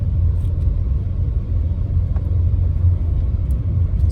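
A car rolls over a gravel road with a steady, close, low rumble that stays even throughout, with faint crunchy ticks scattered on top and no talking.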